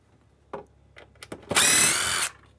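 Power drill backing out a screw that holds a miter box to a wooden workbench: a few quiet handling clicks and knocks, then one loud, close burst of high whirring drilling lasting under a second before it stops.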